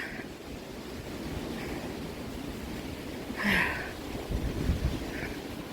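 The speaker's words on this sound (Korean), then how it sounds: "바람 진짜 많이 분다" Strong wind roars across a mountain summit, a steady rushing buffet on the microphone with brief louder gusts, while a person speaks faintly in short bursts beneath it.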